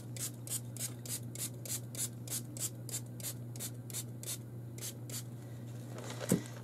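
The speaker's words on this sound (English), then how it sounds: "I'm going to pre-wet all my paints with my spray bottle." A spray bottle mists a watercolor paint palette in rapid repeated spritzes, roughly fifteen quick pumps close by over a low steady hum, ending with a single soft knock.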